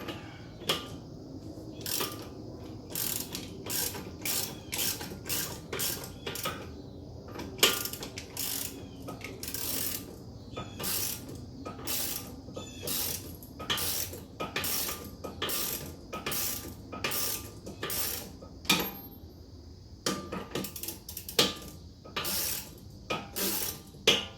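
Ratchet wrench clicking in steady bursts as a brand new bolt and nut are tightened on the air strut of a W221 Mercedes-Benz S550 4Matic, close and clear with short pauses between runs of rapid clicks.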